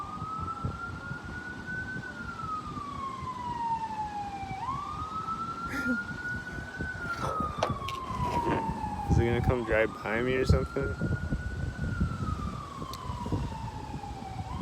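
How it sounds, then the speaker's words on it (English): Siren wailing up and down as a vehicle passes by, believed to be an ambulance, heard at moderate distance with clear pitch sweeps and traffic rumble beneath, while a person speaks over it. "I think this is an ambulance though,"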